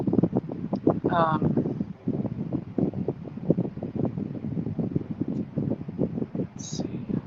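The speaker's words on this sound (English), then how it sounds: "I'm hearing a lot of wind noise. Okay, yeah, that's my fan." An electric fan blowing across a microphone makes a steady, rumbling wind noise throughout, with fluttering gusts running under a person speaking indoors.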